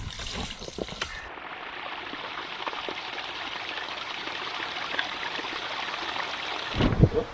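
A mountain stream on Jirisan, swollen with water on a snowy winter trek, rushes in a steady, broad, wash of flowing water, close and continuous, with a few brief knocks at the start and end.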